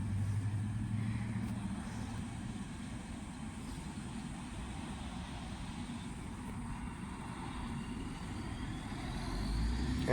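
A dump truck rolls past outside a residential house, its low engine rumble steady and moderately close for the whole stretch, swelling slightly toward the end with no voices.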